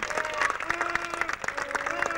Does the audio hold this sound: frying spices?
no